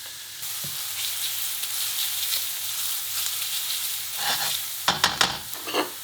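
Onions frying in hot oil in a pan for squid ink paella, a continuous close sizzle that grows busier toward the end with sharp stirring scrapes and clatters, no talking.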